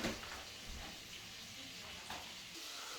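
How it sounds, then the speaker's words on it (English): Quiet, continuous sizzling of potatoes frying in a pan, a soft hiss with faint crackles, low and close. "frying up pretty nice, and they are."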